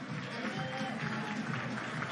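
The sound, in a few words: round of applause for boxer Yamaguchi Falcao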